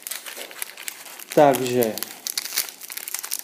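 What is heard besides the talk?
crinkling wrapper of a trading card pack being opened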